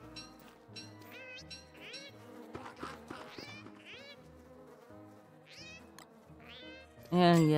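Cats in the video game Don't Starve Together meow repeatedly in short, clear, varied calls over background game music, with a louder burst at the end.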